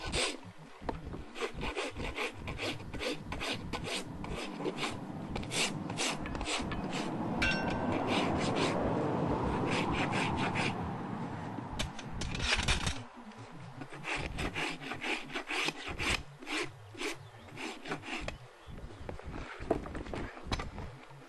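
A farrier's rasp scrapes across a horse's hoof during trimming and shoeing, with repeated close rough strokes in an uneven rhythm.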